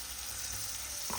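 Onions fry in hot oil on a gas stove, a brief steady hiss with a small knock near the end and no talking.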